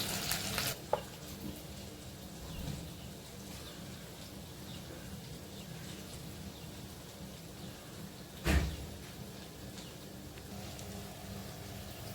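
Oil sizzles steadily and quietly as medu vada fry over a low flame in a black cast-iron kadhai, with a short clatter partway through.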